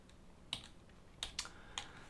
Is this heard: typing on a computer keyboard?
yes